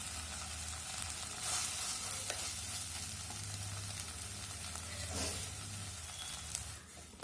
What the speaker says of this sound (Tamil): நல்லா இந்த எண்ணெயிலே நல்லா ஓட்டி விடலாம் கீரையை